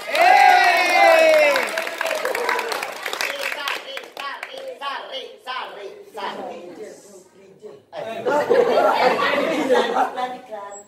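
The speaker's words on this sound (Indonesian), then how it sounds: "Tepuk tangan untuk Gesan Isan." A school audience at SMAN 1 Sungai Tabuk breaks into cheering, clapping and chatter for a Mahalabiu performance. Voices and laughter mix over the crowd noise, which dips midway and then swells again.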